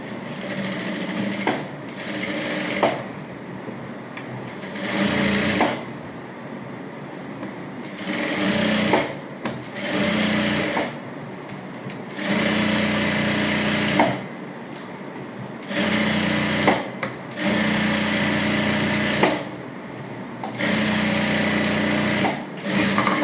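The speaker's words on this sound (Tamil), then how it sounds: "இப்போ சுற்றி தையல் போட்டுக்கலாம்." Sewing machine stitching around a silk princess-cut blouse for a child's half saree, running in loud close bursts of rapid stitching separated by short pauses, with no talk.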